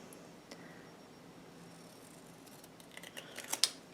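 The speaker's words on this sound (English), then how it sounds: "Now you can use the paper cutter or you can use your scissors. Either way, I'm just going to cut it." Scissors cut paper for a Christmas mini album. A few faint snips come late, building to one crisp, close cut near the end after mostly quiet moments.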